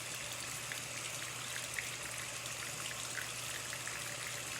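Water runs steadily from a tap while a makeup brush is washed with tea tree soap, giving a soft, even hiss with faint trickling and a low hum beneath, close and without talk.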